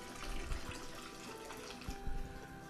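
Liquid steadily draining and trickling during sparging of an all-grain, all-wheat vodka mash held in a mash bag, a faint continuous wash of running water with a few soft splashes and no talking.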